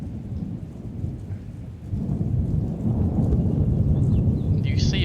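A thunderstorm with rain: a low rumbling roar that swells and grows louder partway through over a constant wash of rainfall, with no clear voices.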